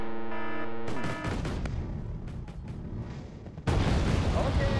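A tank destroyed in Wargame: Red Dragon, Second Korean War campaign, with a loud booming blast that cuts in suddenly, trailing rumble, then another heavy burst near the end, close and dense.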